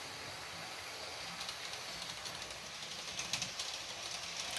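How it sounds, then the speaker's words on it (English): A model V100 diesel locomotive runs along a long layout track, giving a faint, steady rolling whir and light clicking of wheels on rail joints that continues without pause. "there goes the V100."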